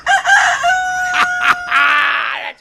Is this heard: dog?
no